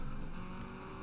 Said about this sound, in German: Gas voll durchtreten